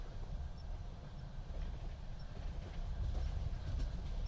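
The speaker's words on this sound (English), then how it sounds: "The train hums below, gentle and steady," A train rolls steadily along the rails, a continuous low rumble with faint clickety-clack, heard alone with no voices.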